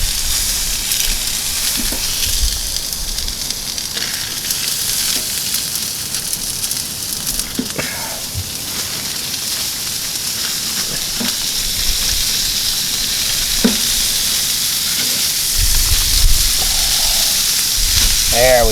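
Horse steak sizzles in a pan on a wood stove inside a tipi tent, a steady broadband frying hiss with a few clicks and pops, and a voice talks over it now and then.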